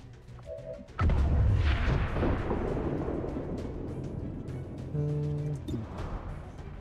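Gunfire in a video game: a sudden loud boom-like shot followed by a long rumbling decay, then a second fainter burst with tonal effects, with no speech.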